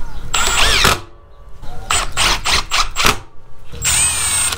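Brushless impact drivers, Skil and Milwaukee, sinking 3-inch lag screws with Makita 1/2-inch sockets; loud, close bursts of motor whine and rapid hammering impacts, with short gaps between runs.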